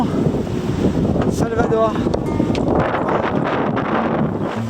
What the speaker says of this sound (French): Je pars avec un petit vent.